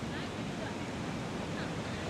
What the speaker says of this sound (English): Let's check out the beach. The ocean is very close though.